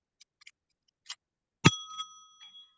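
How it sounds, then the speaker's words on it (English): A presentation timer bell struck once at an event, a single bright ring that lingers briefly, preceded by a few faint clicks and taps in a quiet room. "I will bell twice"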